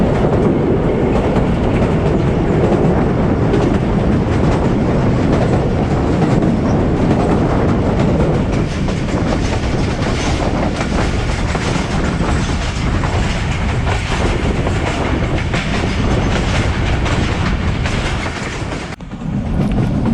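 Onboard the 130DN Thal Express near Nandana Bridge on a scenic stretch, the train runs with a loud continuous rumble and wheel clatter, briefly dipping near the end.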